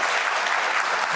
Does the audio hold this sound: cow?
no